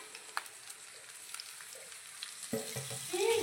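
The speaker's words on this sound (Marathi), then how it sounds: "भाजी जर आपण परतून घ्यायची आहे तेलामध्ये" Amaranth greens sautéing in oil with garlic and cumin, a close, steady sizzle that grows louder and busier as the greens are stirred in the pan near the end, with no voices.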